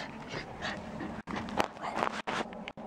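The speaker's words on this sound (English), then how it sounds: "Her tiny little whimpers." A dog shut inside a car gives soft, repeated whimpers mixed with quick panting breaths, heard close up in short bursts with brief silent breaks.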